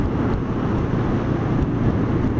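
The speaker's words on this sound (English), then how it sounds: "it's a bit windy today" Continuous buffeting wind roar on a riding Honda CB500F motorcycle, with a low engine drone underneath, steady and loud throughout.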